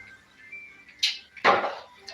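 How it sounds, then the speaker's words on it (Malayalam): Mustard seeds crackle in hot oil while a Kerala-style country chicken perattu is cooked: two short, sharp sputtering bursts close by over an otherwise quiet background, with no talking. "കടുക് പൊട്ടുന്നുണ്ട്"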